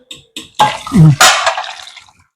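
A brief, loud splash of water poured into a pot of sambar, after a couple of short knocks, then quiet.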